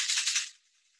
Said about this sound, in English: Now I'm going to shake it loud.